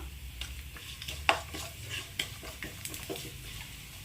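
Coconut pieces and sesame seeds crackle as they fry in ghee for neyyappam, a soft low sizzle broken by sharp pops and spoon scrapes at irregular moments.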